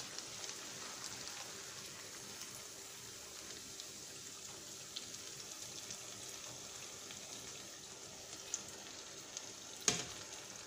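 Water yam akara frying in hot oil gives a quiet, steady hiss and sizzle throughout, with a few soft clicks and a sharper clatter near the end, probably as the fritters are lifted out.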